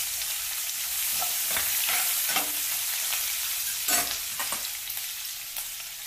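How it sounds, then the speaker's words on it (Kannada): Onion frying in a pan for a Bengaluru-style chayote stir-fry, with a continuous hissing sizzle and occasional scraping strokes as it is stirred, close and without speech. "ಸ್ವಲ್ಪ ಕೈ ಆಡಿಸ್ಕೊಳ್ಳೋಣ, ಸ್ವಲ್ಪ ಕೆಂಪಗಾಗಲಿ ಇದು. ಈ ಈರುಳ್ಳಿ ಹಾಕ್ತಾ ಇದ್ದೀನಿ"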